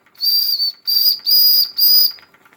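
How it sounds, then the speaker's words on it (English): The whistle on a Wilesco D28EL live steam engine gives four shrill blasts in a row, loud and close, each followed by a brief pause, with no voices over it. "Let's try that whistle."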